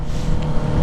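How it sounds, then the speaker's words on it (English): A Honda CBR650R motorcycle with a Black Widow DCAT low-level full exhaust and a round 200mm carbon can gives a brief loud, rumbling engine burst while shifting, up close and with no voices. "if it already pops like this when shifting normally"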